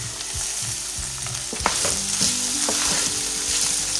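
Beef steaks fry in a pan, a steady crackling sizzle broken by occasional scraping stirs and small clatters, close and fairly loud with no voices.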